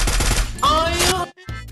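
Rapid bursts of M60 machine gun fire in the game Free Fire, loud and dense, with a brief gap near the end before the firing resumes.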